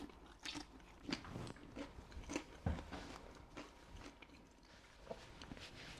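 Quiet, crisp bites and chewing of fries, with irregular crunchy snaps spaced through a soft, close background.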